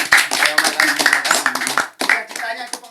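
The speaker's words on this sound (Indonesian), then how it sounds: "Tepuk tangan dulu." A small group in a podcast studio claps hands briefly, a quick patter of claps up close mixed with people talking and laughing.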